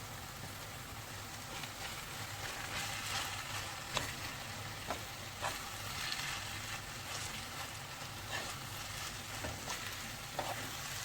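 Minced meat with onion sizzling in a hot pan with a constant crackle, punctuated by occasional scrapes and clicks of a utensil stirring it.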